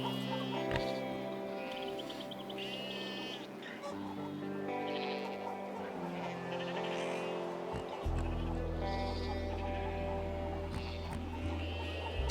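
Sheep bleat in the video game Broken Roads: several wavering, nasal bleats rise and fall over a layered, sustained backdrop of game sound, quiet overall with a denser low drone joining partway through.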